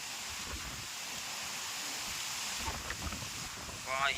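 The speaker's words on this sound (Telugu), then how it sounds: "ఏం గాలి కొడుతుంది, బా అలలు చూడండి అక్కడ" Strong wind blusters across Arambol beach in Goa, a steady broad rush over a low surf wash, with a brief voice near the end.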